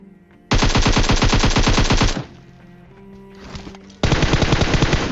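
Video game gunfire downing an enemy, two long bursts of rapid automatic shots, loud and close, separated by a short quieter lull with faint background game sounds.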